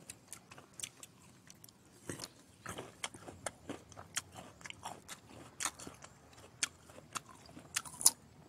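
Crisp Kim Ju guava being bitten and chewed close up, sharp crunchy snaps recurring irregularly through a quiet background, with a few louder crunches near the end.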